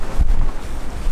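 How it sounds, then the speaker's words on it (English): Strong wind roars and buffets the microphone at an iceberg lagoon in Iceland, a loud, steady rumble with gusty swells and no voices. "the wind was blowing so hard"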